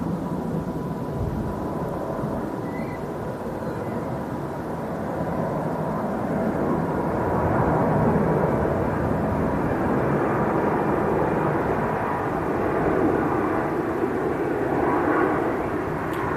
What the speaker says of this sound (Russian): Так, летит самолетик.